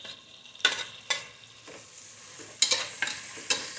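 Tomatoes sautéed in a pan for mushroom biryani: a soft steady sizzle broken by several sharp scraping strokes of a spoon, close by and fairly quiet, with no voices.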